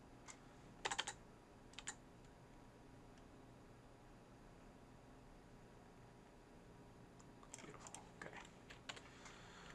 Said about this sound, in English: double click the spacebar